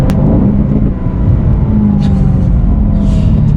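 A 2018 Aston Martin DB11 V8 engine idles with a deep, steady rumble and a low droning tone, loud and close, with a faint click or two.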